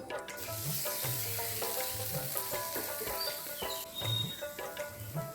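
Fried pointed gourd pieces go into a pan of fish roe curry, bringing a steady, close sizzle of frying with stirring scrapes and a few faint chirps in the background.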